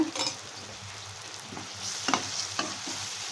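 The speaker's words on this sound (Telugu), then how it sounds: "అల్లం పచ్చిమిర్చి పేస్ట్ మాత్రం సిమ్లో పెట్టుకొని ఫ్రై చేసుకోండి" Ginger and green chilli paste frying over a low flame in a pan, a steady soft sizzle broken by a few sharp stirring scrapes and clinks, heard alone.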